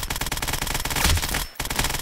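Automatic gunfire crackles through a tactical shooter firefight, dense continuous bursts filling the scene loud and close, broken by a brief gap before the shooting resumes.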